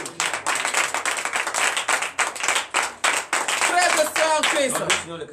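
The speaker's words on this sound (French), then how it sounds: "Donnez encore une vive acclamation à Jésus" Rhythmic congregational clapping during a Sunday worship service, loud hand claps in bursts with voices calling and singing over them toward the end.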